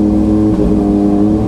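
A Suzuki GSX-R1000 motorcycle fitted with a Healtech quickshifter revs loudly and continuously up close, a brief dip in the engine tone marking a clutchless gear change.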